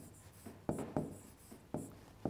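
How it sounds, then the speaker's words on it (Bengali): A word is written on a board with a pen or marker in quick, sharp strokes, about a dozen taps and scratches in an uneven rhythm, close and fairly quiet with no talking. "তাহলে আমি শব্দটা একটু লিখছি"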